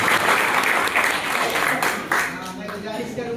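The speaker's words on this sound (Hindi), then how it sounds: "जोरदार तालियां बजाकर आप" Loud, dense applause from a gathered audience at a family retirement ceremony, sustained for the whole stretch and easing slightly toward the end, with voices mixed in.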